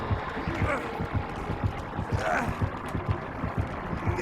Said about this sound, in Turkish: Adamın kalp atışları uzaklaşmıyor ki.